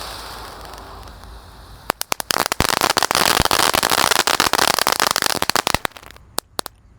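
Ramadan firecrackers and fireworks going off in a rice field: a quiet fizzing lead-in, then a dense, loud barrage of rapid cracks and pops lasting several seconds before a few last scattered bangs.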